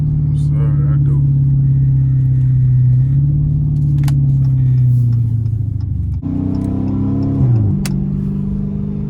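Dodge Challenger R/T with a full straight-pipe exhaust, resonator and mid-muffler deleted, heard from inside the car as a loud, deep rumble that revs up and falls as it downshifts in traffic.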